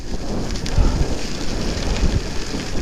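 Wind buffets the microphone on a warm, dry, breezy gravel bike ride, a steady low rumble with gusty swells, moderately loud and without any talk.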